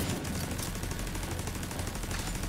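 Gunfire in The Division 2, a dense, continuous rattle of rapid shots that stays loud and steady throughout, with no voices over it.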